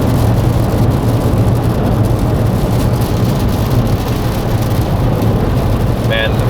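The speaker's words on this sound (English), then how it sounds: "Man, rain decided to pick up the second we hit the highway." Heavy rain drums on a car driving on the highway, a dense steady roar mixed with low road rumble from inside the cabin; a voice is heard briefly near the end.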